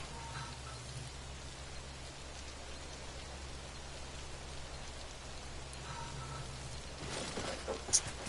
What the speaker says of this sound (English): How long for the rain to stop?